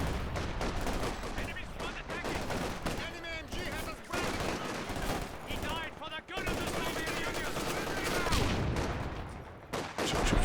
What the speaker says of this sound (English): Mortar pit as well as M1919's raining down.